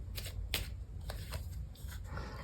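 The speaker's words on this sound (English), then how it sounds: "I'll pull out a couple of cards for you." Tarot cards shuffled and pulled by hand, a quiet close run of soft riffling flicks and light card slaps, no speech.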